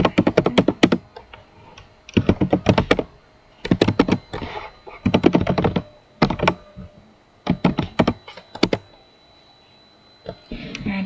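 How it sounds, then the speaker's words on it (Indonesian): Fingers type commands into a terminal on a computer keyboard, with quick clusters of crisp keystrokes separated by brief pauses, close and clear. "dan kita ketikkan"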